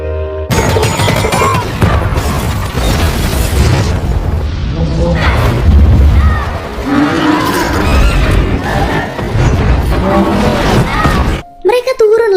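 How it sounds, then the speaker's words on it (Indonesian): Bombs mounted on poles go off one after another in The Maze Runner: The Scorch Trials, heavy booms and bursts under loud music, shouting and voices, with the blasts ending in a sudden drop. "pas lagunya habis, satu-satu bom yang ada di tiang itu meledak"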